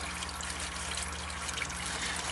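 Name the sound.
engine oil draining from a MINI Cooper S into a pan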